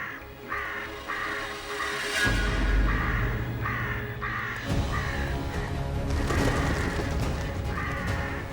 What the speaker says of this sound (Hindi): ये इतने कौवे यहाँ कैसे मंडरा रहे?